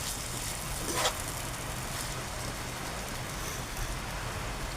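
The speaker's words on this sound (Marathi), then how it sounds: "पाऊस पण भरपूर आहे." Heavy monsoon rain pours down in a village near Alibag during a power cut, a faint, steady wash of falling water that continues evenly throughout with no talking.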